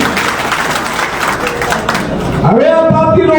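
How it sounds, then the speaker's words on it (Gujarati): Crowd applause at a village political rally welcoming about 300 young party workers from the Koli community, sustained clapping from many hands that rises toward the end with a voice speaking over it. "એમને તાળીઓથી વધાવી."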